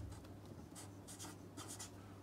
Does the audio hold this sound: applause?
no